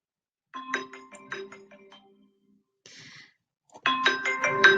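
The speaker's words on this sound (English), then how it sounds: "Sorry, my phone's ringing." A phone rings with a chiming, bell-like melody in two bursts separated by a short pause, close and fairly clear, with no one talking.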